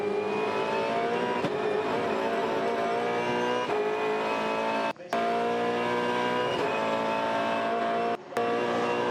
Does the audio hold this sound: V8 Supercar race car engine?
yes